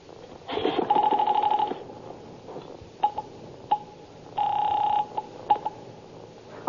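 A telephone signal tone sounds, then a series of short clicks and beeps as a number is dialed, followed by another steady tone and more clicks, close and clear.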